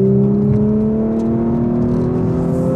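A 2018 Audi S4 sports sedan accelerates from inside the cabin, a steady engine drone with smoothly rising harmonic tones, moderately loud and continuous with no talking.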